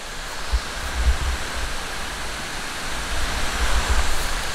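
Tiger Waterfall in Dalat, Vietnam roars as a steady, dense rush of falling water with a low rumble, continuous and fairly loud throughout with no voices.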